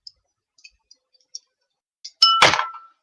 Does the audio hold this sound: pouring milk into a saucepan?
no